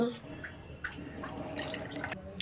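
Tamarind squeezed by hand in a bowl of water for its juice for a village-style taro root sambar makes faint wet squelches and small splashes, close and quiet, under a low voice.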